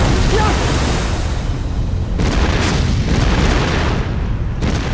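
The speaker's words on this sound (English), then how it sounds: "We got shots coming from that coastal battery!" A coastal battery firing artillery in a war-film battle scene, heard as a continuous loud, dense roar of booms and blasts with no clear gaps between shots, close and overwhelming.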